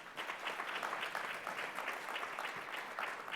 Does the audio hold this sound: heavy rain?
no